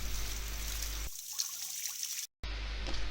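Tap water runs and trickles steadily over a Hugsby XP-1 light, loud and close, breaking off briefly into near silence and a short gap before the flow resumes.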